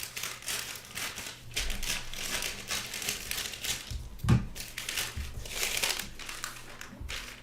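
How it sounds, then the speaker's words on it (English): Paper scissors cut through a 10-inch square of Pellon fabric for a quilted table runner, giving close, quiet crinkling snips and rustles with one sharper snip partway through. "I'm going to cut that up using paper scissors"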